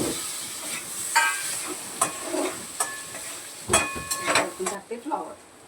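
Potato and cauliflower pieces are stirred and mixed in a hot frying pan, with a continuous sizzle and repeated scraping, clattering strokes up close.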